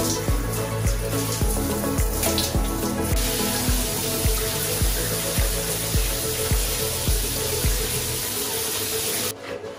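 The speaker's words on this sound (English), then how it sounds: "I need to have a shower" Shower water runs steadily and loudly in a home bathroom, a continuous spray hiss with rhythmic pattering underneath, no voices.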